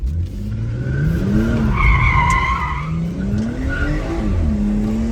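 BMW 340 tires squeal and skid loudly as the car spins out while its engine revs nearby, the screech rising and wavering over several seconds.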